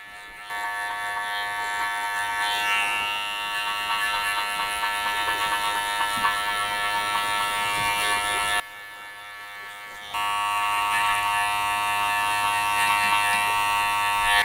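Electric hair clippers buzzing steadily while cutting short silver hair in a short-sides, longer-top haircut, a close continuous hum that cuts out briefly and then resumes slightly louder.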